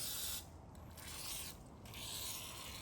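WD-40 is sprayed onto metal parts in several hissing bursts at close range, with short pauses between them and no talking.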